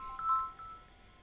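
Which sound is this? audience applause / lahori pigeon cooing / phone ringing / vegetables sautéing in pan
phone ringing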